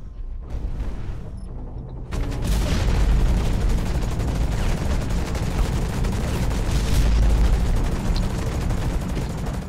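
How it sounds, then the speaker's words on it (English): Sustained rapid automatic gunfire from a submachine gun in the mech shooter game Hawken, a sparse shot or two at first, then a loud continuous dense burst with booming impacts running for several seconds. "the submachine gun does not do that much damage"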